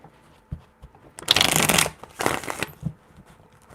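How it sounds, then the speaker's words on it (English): Tarot cards are shuffled by hand in a few quick riffling bursts, close and fairly soft, with light taps before and after. "4 shuffles."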